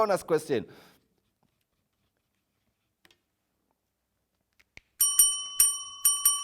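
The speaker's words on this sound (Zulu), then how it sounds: "Sikhalile ke insimbi yethu." A school quiz bell rings out alone near the end, a bright repeated ringing with sharp strikes. A voice speaks briefly at the start, followed by a long silence.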